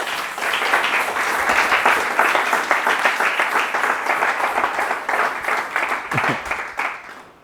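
A church congregation applauds steadily and loudly, a dense wash of many hands clapping together without pause, fading slightly at the end.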